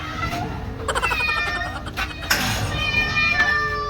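Several cats meow at feeding time in high, overlapping calls, close by, over a busy indoor background with faint voices and clatter.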